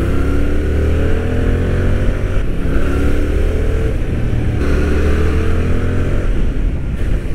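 A Yamaha MT-07 motorcycle engine revs and accelerates loudly and steadily out of a corner, its pitch climbing through the gears with wind rush, close and continuous.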